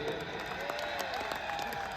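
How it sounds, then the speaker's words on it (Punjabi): Applause from a concert audience at a live Babbu Maan show in Morinda, a dense steady patter of many hands clapping for about two seconds, with crowd noise and faint voices mixed in. "ਇੱਕ ਜ਼ੋਰਦਾਰ ਤਾੜੀ"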